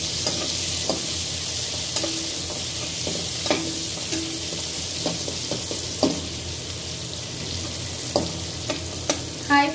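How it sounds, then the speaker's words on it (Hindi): Onions cooking in a pan over a flame until light brown, a steady soft sizzle with repeated scraping and stirring clicks from a spatula, close and fairly loud, with no voices. "हार्डली 1 मिनट तक आप इसको कुक होने दीजिए। हमको बहुत ज़्यादा पकाना नहीं है अपने प्याज को,"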